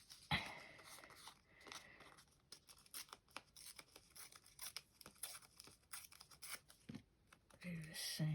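Scissors cutting paper during a folio craft project, a run of quick snipping and rustling crunches under a speaking voice, fairly close and quiet.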